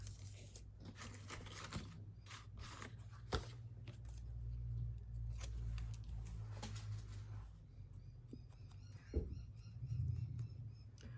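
Quiet, close scratching and ripping as small pieces of glue tape are torn off for a junk journal, a few brief crisp snaps scattered through a hushed room with faint background hum.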